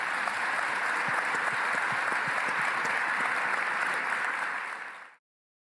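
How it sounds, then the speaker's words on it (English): An audience gives panelists from an eco-agriculture discussion a sustained round of applause, dense even clapping at steady volume that fades out abruptly near the end. "Let's all give them a round of applause."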